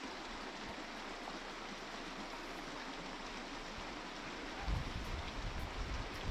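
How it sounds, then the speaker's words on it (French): Canyon stream in the Argentine Puna forded repeatedly on foot or by 4x4, a steady broadband rush of flowing water, faint and continuous, with a slightly louder, rougher splashing texture near the end. "Il suffit de descendre le canyon en traversant à gué le ruisseau à de multiples reprises."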